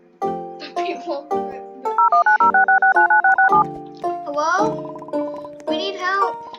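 Telephone keypad tones beep in a quick run of about ten evenly spaced presses on an emergency phone aboard an airplane in a video game, framed by a child's chatter before and after.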